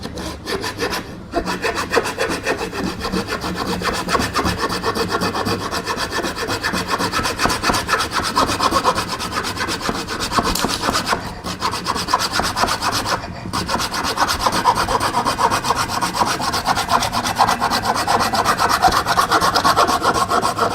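An OLFA 213B craft hand saw rasps steadily through wood in continuous back-and-forth strokes, loud and close, with only a couple of brief pauses.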